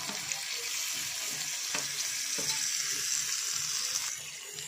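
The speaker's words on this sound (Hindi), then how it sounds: "प्याज को हमने खुले में एक मिनट भून लिए हैं, तो मैरिनेट किए हुए चिकन को ऐड करेंगे" Marinated chicken frying in a pan with onions, a continuous bright sizzle with occasional soft clinks and scrapes of stirring, close and steady, fading slightly at the end.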